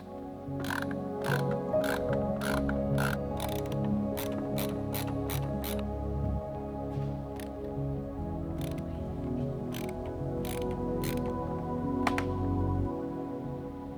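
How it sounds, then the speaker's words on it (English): A screwdriver backs out the screws holding the speedometer in a roughly 30-year-old car dashboard, with repeated ratcheting clicks and small mechanical ticks in uneven bursts over a low background hum, close and fairly quiet. "And now the screws that hold the speedometer in."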